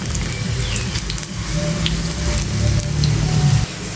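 Meat-filled puli pitha fry in a pan of oil with a steady, close sizzle and crackle that continues without break, with occasional soft stirring clinks and no voices.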